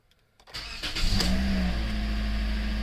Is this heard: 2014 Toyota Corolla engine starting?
yes